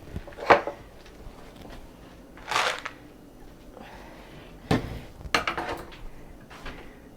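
Peanut butter is worked into an ice cream mixture with a utensil, giving scattered scraping and knocking strokes against a bowl, moderately close, in separate bursts with pauses between them.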